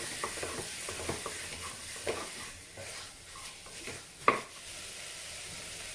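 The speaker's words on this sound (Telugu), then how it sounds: "అన్నీ ఒక ఫిఫ్టీ పర్సెంట్ వరకు వేగేటట్టు ఇలా ఉడికించుకోండి" Carrots and other vegetables frying and being stirred in a pressure cooker pan for vegetable biryani, a soft steady sizzle with scattered scraping clinks and one sharper knock near the end, no talking.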